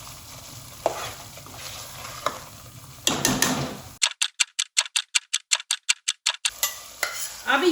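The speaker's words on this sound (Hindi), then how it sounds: "इसको तकरीबन 1 मिनट भूनेंगे" Tomato stirred and fried in oil in a pan for chickpea curry, a soft sizzle with scraping strokes, then a run of sharp rhythmic ticking clicks over near silence before the frying sound returns.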